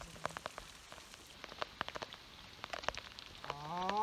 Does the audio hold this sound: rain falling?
yes